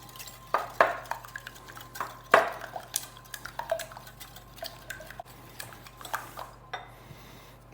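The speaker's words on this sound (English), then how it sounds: "Now with my eggs, I like to use a wire whisk. Just beat those up like that." A wire whisk beats eggs in a bowl, producing close, rapid clinking and sloshing strokes with a few louder knocks against the bowl's side, tapering off toward the end.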